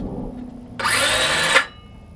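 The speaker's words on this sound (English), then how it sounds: "The impact driver works just as it says on the box." A Certa cordless impact driver runs in a single burst of under a second, a loud buzzing whir that starts abruptly and cuts off, heard close up against a quiet background.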